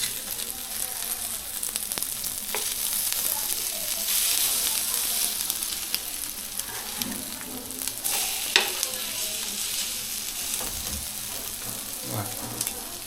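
A bread omelette fries in a pan, with a steady crackling sizzle throughout, occasional scrapes and clatters of a spatula as it is turned, and brief soft voices in the background.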